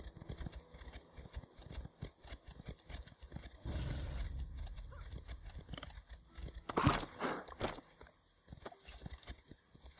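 Horse hooves clip-clop in an irregular rhythm in the video game The Elder Scrolls Online, over a rumbling background, with a louder scraping burst midway and a sharp clatter near the end.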